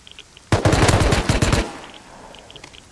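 A loud, close burst of rapid automatic gunfire lasting about a second in a raid video game, a steady stream of shots with no voices over it, followed by quieter ambient sound.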